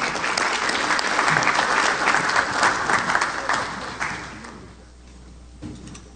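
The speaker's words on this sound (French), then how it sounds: "M. Irwin Larocque, que je vous prie d'applaudir pour son discours de circonstance, s'il vous plaît." Audience applause at a CARICOM delegation event in Haiti, a steady dense roar of clapping that fades toward the end.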